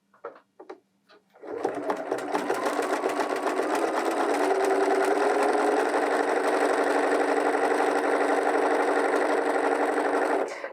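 A Bernina 325/335 sewing machine running a satin stitch hums in a fast, steady mechanical whir after a few short taps, continuing loud and close for several seconds without talk.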